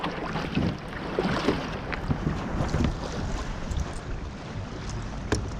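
A Hobie Revolution 11 pedal kayak glides across open water on its first outing, with a steady wash of water and wind buffeting the microphone, no talking.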